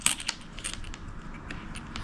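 Small coins clink and drop against a hard surface during work gluing PVC molding to a polycarbonate sheet, a few bright metallic taps at the start followed by lighter scattered jingles, close and fairly quiet with no speech.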